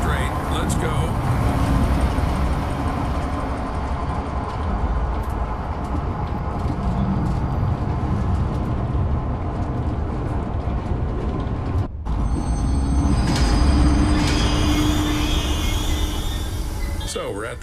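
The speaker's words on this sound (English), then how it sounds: "select the giraffe enclosure on the control panel and start the train" A train in the game Zoochosis pulling away and running, a steady rumbling roll with rattling along the way, a brief break about two-thirds through, then the running noise resumes with high squeals.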